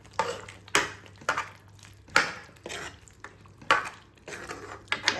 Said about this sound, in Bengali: একবার নেড়ে দিলাম।